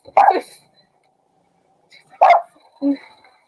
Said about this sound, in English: You just want to bark